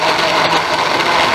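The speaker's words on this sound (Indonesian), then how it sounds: "Kita blend." A kitchen blender whirs steadily as it blends cheese for a healthy fruit juice, a loud continuous motor drone with no talk.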